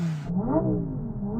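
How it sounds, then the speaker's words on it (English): A Lamborghini Performante engine revs up close and loud, its deep tone rising and then holding in a brief, strong roar with no talk. "Okay, rev up the Lamborghini."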